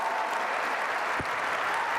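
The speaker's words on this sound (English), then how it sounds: "can we please give them a round of applause?" Audience applause after a call to honor the program's organizers at an agency state-of-the-agency event, a steady dense wash of clapping held evenly throughout with no voices over it.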